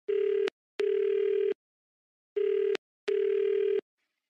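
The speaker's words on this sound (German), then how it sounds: "Ihr Handy klingelte." A mobile phone ringing in an audiobook scene, given as four steady electronic tone bursts in two pairs with a gap between them, clear and alone without talk.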